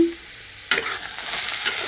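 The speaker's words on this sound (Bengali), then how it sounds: "আলু ভাজা মোটামুটি হয়ে গিয়েছে" After a brief quiet moment, potatoes start sizzling loudly in a pan, a steady crackling fry that keeps going.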